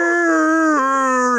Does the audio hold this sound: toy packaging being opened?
no